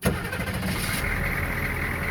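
An HMMWV military truck diesel engine cranks briefly and catches, then settles into a loud, steady rumbling idle close by.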